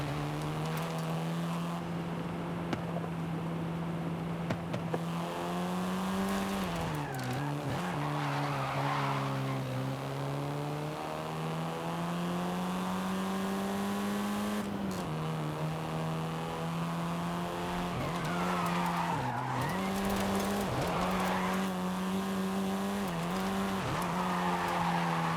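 A car races in Forza Horizon 5, its engine holding a steady loud drone with repeated dips and gear shifts, tires skidding and squealing through corners, continuous and close with no talk.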